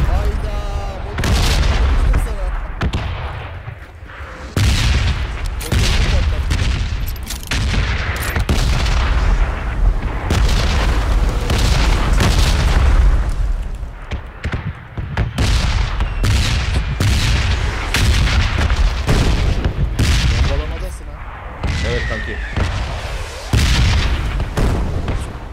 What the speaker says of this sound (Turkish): motor patladı